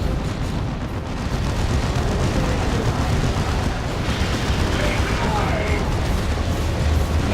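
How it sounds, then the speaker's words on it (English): Grenade blasts in the real-time strategy game Dawn of War II: Retribution, heard as a dense, continuous rumble of explosions and battle noise that stays loud and steady throughout, mixed with other combat sounds. "Grenades going in."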